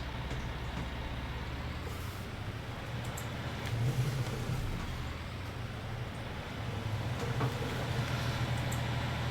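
A farm vehicle engine in Farming Simulator 19 runs steadily at low pitch, a continuous mechanical rumble that swells briefly around the middle and again near the end, with no talk over it.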